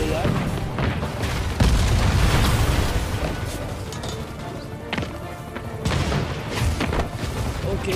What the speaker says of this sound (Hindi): भाई ये पूरी बिल्डिंग टूटने लग गई यार